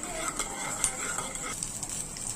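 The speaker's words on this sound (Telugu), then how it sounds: "ఇప్పుడు దీనిలోనే వేరుశనగ పప్పులు తీసుకొని వేయించుకుందాం." Peanuts frying in a pan for an onion carrot dosa chutney give a soft, continuous sizzle with faint crackles and light stirring taps, close and fairly quiet.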